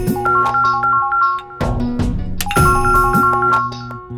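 A mobile phone rings with an incoming WhatsApp call, playing a bright, repeating chime melody that is loud and close, with no one talking over it.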